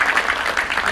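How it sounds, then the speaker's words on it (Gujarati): A cinema audience at a film cast appearance claps for itself in a brief, steady burst of applause. The clapping is close and fairly loud, with uneven pulses and no talking over it. "એકવાર પોતાના માટે તાળીઓ પાડી."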